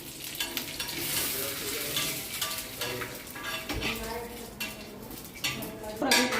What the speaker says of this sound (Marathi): खोबरं भाजून घेते हो लालसर करून घेते